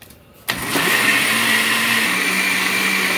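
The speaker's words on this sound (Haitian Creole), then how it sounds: "Je vais blender tout ensemble." Kitchen blender mixing crème brûlée ingredients kicks on after a short quiet moment, then settles into a loud, steady motor whir that holds for several seconds with a slight drop in pitch partway through.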